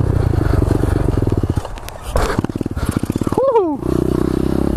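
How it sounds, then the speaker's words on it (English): Pit bike engine running with a freshly tightened chain, a rapid close putter that revs up and down in pulsing bursts, with a brief whiny vocal sound over it near the end. "The bike is running so sick."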